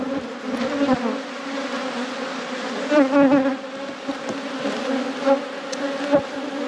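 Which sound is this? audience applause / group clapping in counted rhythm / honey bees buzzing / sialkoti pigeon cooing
honey bees buzzing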